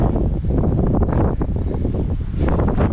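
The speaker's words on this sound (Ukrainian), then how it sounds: "зараз дуже сильний вітер і наганяє хмари" Powerful mountain wind in the Carpathians roars and batters the microphone continuously, loud and close, with surging gusts throughout.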